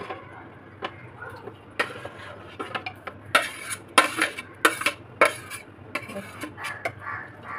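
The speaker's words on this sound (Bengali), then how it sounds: "এবার এগুলোকে আমি প্রেসার কুকারে এক এক করে ঢেলে দেবো" Pork pieces drop piece by piece into a metal pressure cooker, making sharp clanks and knocks in an irregular rhythm, close and moderately loud, over a faint low hum.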